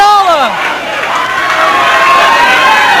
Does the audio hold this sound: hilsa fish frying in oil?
no